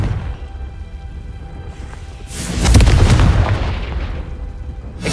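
In the video game Hogwarts Legacy, a Confringo spell bursts into an explosion, a deep rumbling boom that swells midway, preceded by quieter ambient rumble.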